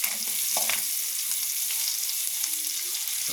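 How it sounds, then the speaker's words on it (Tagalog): Garlic and onion sautéing in a pan, a bright steady sizzle with a few soft knocks and scrapes of a utensil, close by and without speech. "Bisayin lang natin bawang at saka sibuyas."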